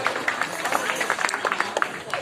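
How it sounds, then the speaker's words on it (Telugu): An audience at a cultural programme claps to thank a bhajan group. The scattered, uneven hand claps sound moderately near and continue for a couple of seconds, mixed with some background voices. "భజన బృందానికి అందరూ కూడా చప్పట్లతో ధన్యవాదాలు తెలియజేయవలసిందిగా వస్తుంది"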